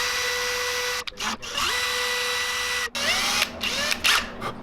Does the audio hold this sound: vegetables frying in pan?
no